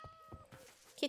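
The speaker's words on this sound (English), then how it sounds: "Kitty." A single short cat meow in a Minecraft-style video game, faint and brief, rising at the very end after some quiet soft noises.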